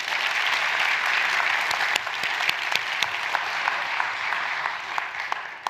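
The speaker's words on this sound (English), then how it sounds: "give one more round of applause to our band" An audience at an education awards celebration applauds their band with steady, dense clapping that holds strong and close throughout, with a few sharper individual claps popping out near the end.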